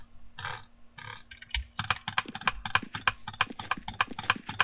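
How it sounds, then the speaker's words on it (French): A computer mouse clicked with butterfly and drag-click techniques, first a few separate bursts, then a fast dense rattle of sharp clicks at roughly fifteen to twenty-five per second, close and crisp with a faint hum underneath. "Là je butterfly, là je clique normal. Là je drag-click."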